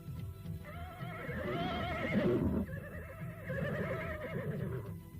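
A horse gives a loud, close whinny, one long wavering neigh followed after a brief break by a second, shorter one, heard alone without any talking.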